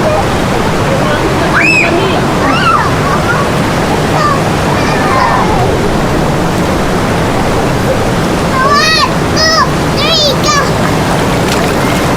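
Cold river water near the Hungduan rice terraces in Ifugao rushes and splashes loudly and continuously, with a few high chirping calls rising briefly above the steady roar.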